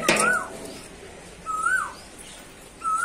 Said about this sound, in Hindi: और कोयल है शायद, ये बोल रही है जो जामुन का पेड़